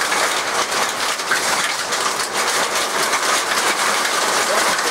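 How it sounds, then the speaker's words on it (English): Hail pelting a greenhouse, a dense, steady hiss of countless small impacts that stays loud and unbroken with no pauses. "We got hail."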